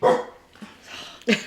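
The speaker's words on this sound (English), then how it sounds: "Sorry about the dog." A dog barks nearby in a home, sharp yips at the start and again near the end with softer whimpering between, loud and close with no talk over it.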